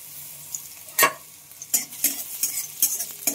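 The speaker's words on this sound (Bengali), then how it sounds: "পেঁয়াজটাকে একটু ভালোভাবে ভেজে নিতে হবে" Thinly sliced small onion frying in oil tempered with cumin, a soft steady sizzle broken by several sharp spatula scrapes and stirs against the pan, close and without talk.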